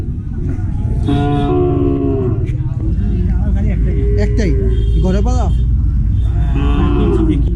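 Local desi cows low at a riverside char cattle market in Noakhali, Bangladesh. Several long, deep moos rise and fall under constant loud bargaining chatter and a low rumble.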